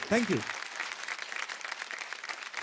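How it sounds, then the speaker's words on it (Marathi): A studio audience at a Marathi television dance show bursts into steady applause that goes on for a couple of seconds. It begins just as a brief burst of speech ends. "जोरदार टाळ्या होऊन जाऊ द्या."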